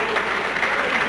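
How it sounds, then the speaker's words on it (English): Audience applause at a live stage show, a short steady burst of clapping that fills the room without a break. "Let's give another nice round of applause, ladies and gentlemen."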